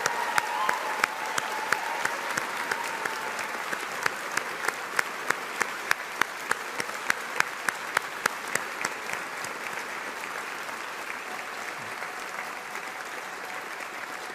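A large graduation audience for 2024 Mechanical and Aerospace Engineering graduates breaks into sustained applause, dense steady clapping with sharp individual claps standing out, holding level for the whole stretch and thinning slightly toward the end.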